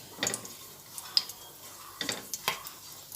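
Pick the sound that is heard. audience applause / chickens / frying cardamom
frying cardamom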